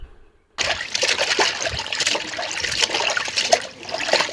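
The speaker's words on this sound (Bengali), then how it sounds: "চলচলা পানি দিয়ে ধুয়ে নেওয়া হইতাছে সুন্দরভাবে" After a brief quiet start, water runs steadily and splashes close by as duck meat is rinsed under it, continuous until the end.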